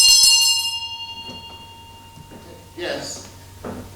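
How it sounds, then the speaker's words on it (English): A bell rings in a stage play production of Little Dorrit, a bright high tone opening loudly then decaying over a couple of seconds, followed by actors speaking on stage. "You just heard a bell."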